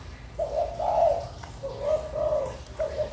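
A spotted dove (tekukur) from Dolok Sanggul coos nearby in three short, clear, repeated phrases over faint background noise.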